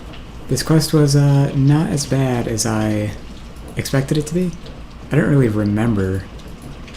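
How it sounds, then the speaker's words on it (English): Steady rain falls as a soft, constant hiss in the background while someone talks over it nearly the whole time. "Pardon the rain"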